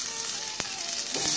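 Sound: ginger and garlic frying in hot oil

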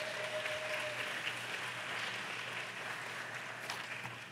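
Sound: audience applause for pageant judge

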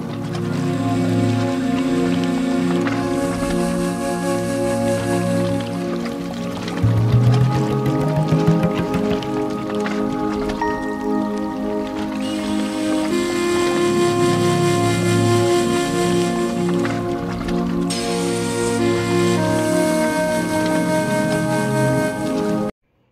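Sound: Kiliyur waterfall cascading

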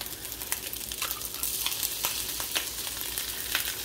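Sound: white rice frying in oil with eggs

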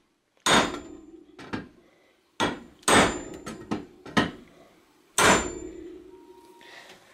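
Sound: hammering a cotter pin out of a bicycle crank with iron bar and hand sledge

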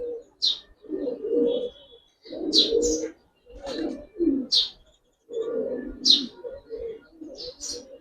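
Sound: Giribaz pigeons cooing at a pigeon farm

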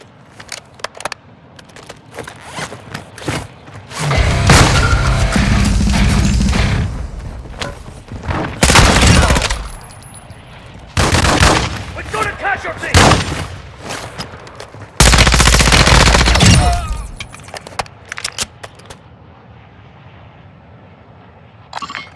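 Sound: gunfire from Call of Duty: Modern Warfare 2 DMZ video game

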